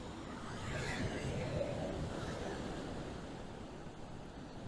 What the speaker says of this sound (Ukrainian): які хвилі там удалечінь